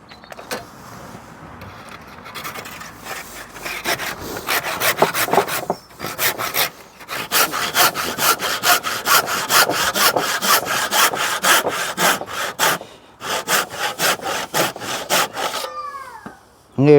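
A circular saw cuts through wood with a loud, sustained grinding rasp that rises after a quieter start, briefly drops out, then continues in rapid pulsing bursts before spinning down at the end.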